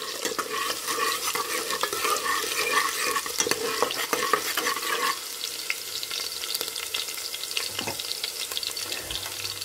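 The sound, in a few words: frying ingredients in a pan before adding onions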